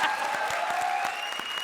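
Hands clap in a quick, regular rhythm on a comedy stage show, about a dozen crisp claps close up, with a faint sustained tone running underneath.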